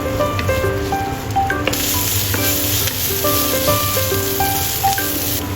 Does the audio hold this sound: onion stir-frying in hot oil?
yes